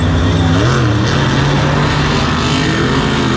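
Monster trucks racing at Monster Jam in MetLife Stadium, a loud, sustained engine roar with rising and shifting pitch, heard from a distance across the arena.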